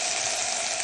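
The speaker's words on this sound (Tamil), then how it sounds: "எண்ணெய் காஞ்ச அப்புறம் காய போட்டுடலாம்" Raw plantain pieces sizzle in hot oil in a pan for a Tamil vazhakkai kara kari, a brief, steady, close hiss with no talk.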